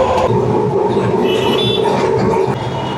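A Kolkata tram pulls away on the Gariahat route, a loud close rumble and metallic whine of wheels on rails with a droning motor tone, steady and without talk.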